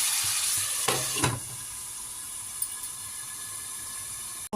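Mutton cooking in a pot for mutton soup gives a steady, close sizzling hiss with a couple of faint stirring knocks and a sharp clatter at the end.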